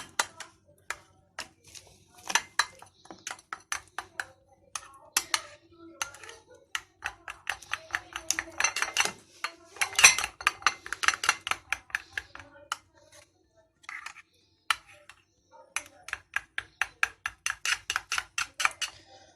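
A spoon clinks rapidly against a bowl while yogurt sauce for potato chips is whisked, producing bursts of quick metallic ticks with short pauses, close and fairly clear.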